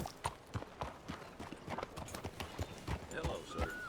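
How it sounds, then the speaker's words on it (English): Horse hooves clip-clop at a steady walking rhythm in the Red Dead Redemption 2 video game, a string of sharp close hoof strikes over a soft background. "Who's a good horse?"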